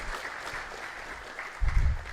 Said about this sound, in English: Just give them a good round of applause